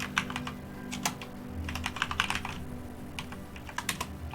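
Fingers tap on a computer keyboard in quick irregular clusters of clicks, close and moderately loud over a faint steady background hum, with short pauses between bursts.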